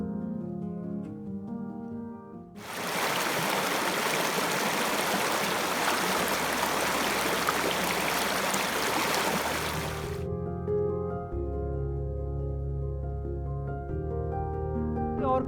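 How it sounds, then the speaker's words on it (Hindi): The river flowing past Katali village rushes loudly for several seconds as a dense, close wash of water, set between quieter stretches of ambient background. "एक नदी जो काटली गांव के ऊपर से बहती है"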